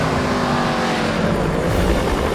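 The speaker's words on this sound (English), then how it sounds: "Somewhere that's never echoed to the sound of its thunderous 3-litre straight-8 engine" A Mercedes-Benz 300 SLR 722 with a thunderous 3-litre straight-8 engine roars loud and close, a sustained racing snarl that swells as the car blasts past on London streets.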